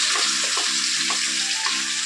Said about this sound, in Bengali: এদিকে দেখো আলু ভাজা হচ্ছে